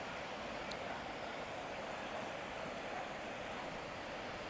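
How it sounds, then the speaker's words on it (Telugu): River water rushing steadily outdoors after rain, a continuous broadband wash with no distinct splashes, fairly close and even in level throughout. "ఆ రివర్ సౌండ్ వినండి ఆ వాటర్ సౌండ్"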